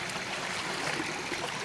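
A river runs over rocks at Biga, a steady soft rushing and trickling wash that continues evenly throughout, fairly faint and with no voices.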